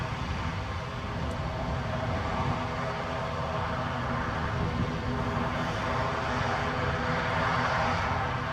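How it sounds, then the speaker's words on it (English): An Aer Lingus ATR 72-600 turboprop at Edinburgh airport makes a broad, steady roar of engines and propellers, sustained and fairly distant with no talk. "The Aer Lingus going to Dublin. ATR 72-600."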